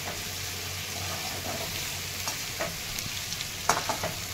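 Eggplant sizzles steadily in hot oil in a pan while a Marathi stuffed eggplant with black masala is cooked, with a few sharp scraping clicks of stirring near the end and no talking.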